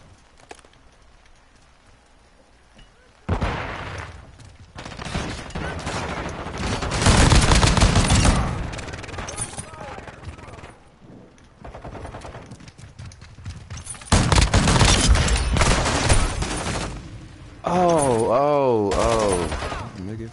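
Bursts of rapid gunfire in a shooter video game come in several loud clusters between quieter stretches, with a warbling electronic effect near the end.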